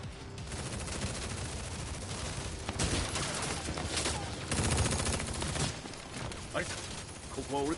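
Dense gunfire in a fighting game's story mode, Tekken 7, with bursts of automatic shots and heavy volleys rolling continuously, loud and close, mixed with game speech and music.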